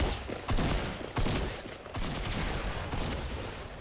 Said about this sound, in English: so I just stopped shooting. Give me that pump shotgun, please.